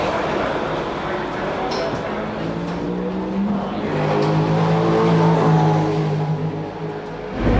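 Touring cars roar away from the start of the 1989 Tooheys 1000 at Bathurst, engines revving hard with tyres spinning, a loud sustained mechanical drone under crowd noise and a commentator's voice.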